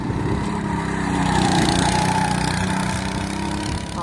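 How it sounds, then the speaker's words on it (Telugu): A go-kart racing engine runs on a track, a loud continuous buzzing drone that swells slightly in the middle as the kart speeds past, with no talk. "చూడండి నెంబర్ 4 రేసింగ్ కార్ అయితే ఎలా దూసుకెళ్తుందో"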